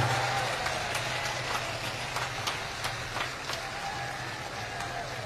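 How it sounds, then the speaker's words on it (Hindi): A large political rally crowd welcomes a female party leader at a Lok Sabha election gathering with continuous, dense applause and clapping, steady and loud throughout with a low hum beneath. "दोनों हाथ उठा करके जोरदार ताली बजा करके मान्य बहन जी का स्वागत करने का काम करें"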